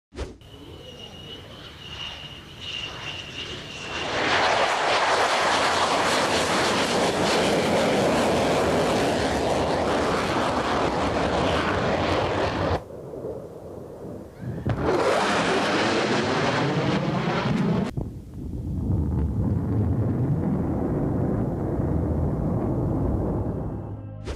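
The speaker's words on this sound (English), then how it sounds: "we have footage of the F-4 Phantom reaching the speed of sound at an air show" An F-4 Phantom jet roars past at an air show while breaking the sound barrier, a loud sustained rushing blast that cuts out abruptly, surges again, then gives way to a lingering rumble.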